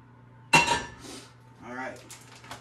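Sausage links drop into a pan coated with grapeseed oil, giving a sharp clatter and a brief sizzle, followed by softer handling sounds and some quiet background talk.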